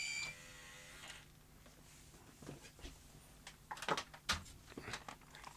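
A Philips VR2324 V2000 video recorder works its eject mechanism, producing a few faint mechanical clunks and whirring clicks after a quiet, humming start, with the loudest knocks near the end.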